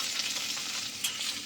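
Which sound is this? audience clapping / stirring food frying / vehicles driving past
stirring food frying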